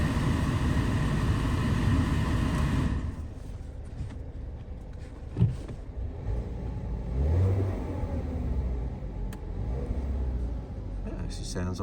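A car with snow tyres on the back and about 83,000 miles cranks over and starts, its engine roaring loudly at first and then settling into a lower, steadier running note, heard up close.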